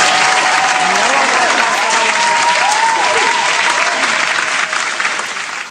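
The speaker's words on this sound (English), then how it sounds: "I need a round of applause for this one" A studio audience breaks into loud, sustained applause that holds steady for several seconds before tapering slightly at the end, with a voice faintly carrying over it.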